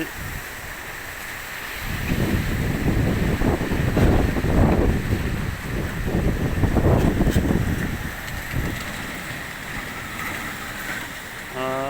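Loud gusting wind of a summer storm buffets the microphone in long roaring surges, rising and easing over about eight seconds before dropping back to a quieter rush.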